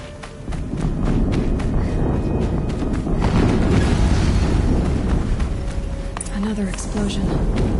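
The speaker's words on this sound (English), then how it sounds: "Another explosion." Explosions in a PS4 combat video game, with heavy booming rumble filling the clip loudly and continuously, broad thuds rolling over one another amid game noise.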